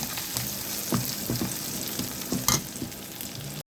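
Vegetables frying in a pan for an early breakfast: a close, continuous sizzle with a few stirring scrapes and knocks, no speech, ending abruptly.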